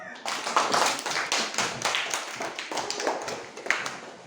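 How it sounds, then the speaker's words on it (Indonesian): A small class applauds a student after a reading lesson, a few pairs of hands producing distinct, fairly close claps that patter unevenly for several seconds. "Ya, tepuk tangan untuk Iqmal."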